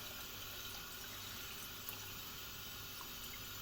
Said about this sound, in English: And we just add our distilled water